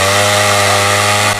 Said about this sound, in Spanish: Para poder destapar, tuvieron que hacer uso de motosierras.